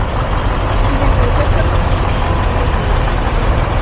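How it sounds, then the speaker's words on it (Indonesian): Buses idle in the car park at Masjid Quba in Medina, a continuous loud engine drone with a rough, knocking texture that holds steady throughout. Voices blend into the background. "Ini banyak bus-bus yang parkir di sini"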